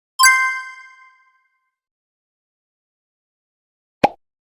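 A single bright notification bell dings once, ringing out and fading over about a second in silence, followed a few seconds later by a short sharp click.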